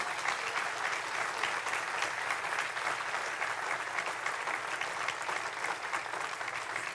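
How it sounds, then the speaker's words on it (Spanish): A church congregation gives sustained applause during a sermon, a thick, even roar of many hands clapping at once, steady and unbroken for the full stretch. "Dale un aplauso al Rey de Gloria."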